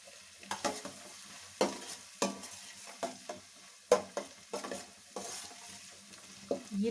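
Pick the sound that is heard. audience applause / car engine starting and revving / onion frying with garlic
onion frying with garlic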